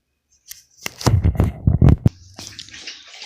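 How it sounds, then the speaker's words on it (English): Dry lentils pour into a cooking pot in a short, close rattling rush lasting about a second and a half, then a few scattered grains settle. "Alright, so now we can add our lentils."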